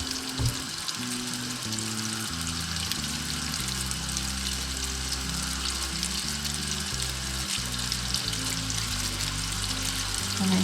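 Sicilian cuzzole, pieces of fried dough, sizzling steadily in hot oil, a dense continuous crackle and hiss that stays loud and close throughout, with no talking.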